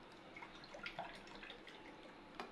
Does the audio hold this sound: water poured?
yes